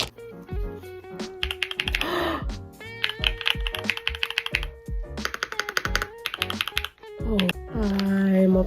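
A brand-new mechanical keyboard being typed on in bursts of close, crisp key clacks, with excited talking over parts of it.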